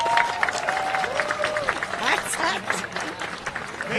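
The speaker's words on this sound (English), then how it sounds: "let's have one more round of applause for all of our graduates." An audience at a school moving-up ceremony applauds the graduates with dense, steady clapping and scattered cheers, with some voices audible in the crowd throughout.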